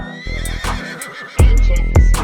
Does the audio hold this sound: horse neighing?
yes